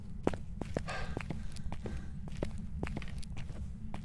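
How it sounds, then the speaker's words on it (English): A ghost's footsteps in the Phasmophobia video game: quiet, evenly spaced steps tapping over a steady low hum, faint and fairly distant, with no speech. "Wow, I barely heard its footsteps until it came in the room with me."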